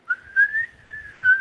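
A person whistles a sustained, wavering tone to mimic wind rushing past a racer, rising and falling in a few swells over about a second and a half, close and clear with no other sound.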